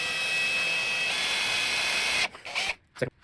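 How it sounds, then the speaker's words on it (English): Power drill boring the second hole in a wooden crucifix, a steady high-pitched whine sustained for about two seconds before cutting off with a few short bursts and clatter at the end. "All right, now we're drilling the second hole"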